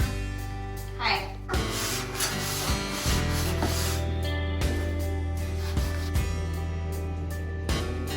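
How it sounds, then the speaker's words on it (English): A bathroom fixture is sanded by hand in steady rasping strokes with short pauses between passes. The scraping is moderately loud and close over a constant low background hum. "Sanding this beast today."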